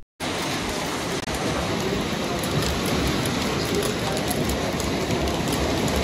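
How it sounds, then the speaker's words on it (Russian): Dense, steady pelting of hail on surfaces in Altai Krai, loud and continuous throughout with no pauses and no voices. "А у нас град пошел."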